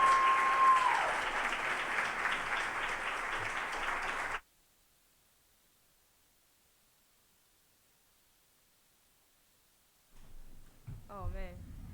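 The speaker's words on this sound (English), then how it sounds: "If you could all please give a round of applause" Audience applause at a public climate-change forum, steady sustained clapping for about four seconds that cuts off abruptly, then silence before a voice begins speaking.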